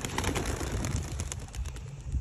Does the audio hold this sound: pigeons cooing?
yes